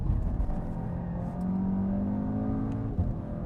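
Engine drone from inside a race car on Pirelli tyres lapping a circuit, a low steady hum with gear-linked pitch rises as it accelerates out of corners.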